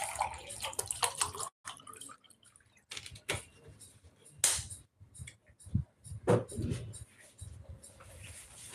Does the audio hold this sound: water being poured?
yes